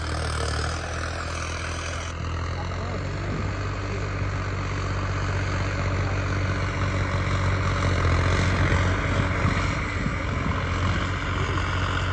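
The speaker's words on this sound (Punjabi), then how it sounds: "ਸਹੀ ਤੁਰਿਆ ਟਰੈਕਟਰ ਤਾਂ ਨਾ ਬਈ" A modified Swaraj 855 tractor engine runs with a steady, loud, low droning rumble that holds for the whole stretch and swells slightly toward the end, with no talking.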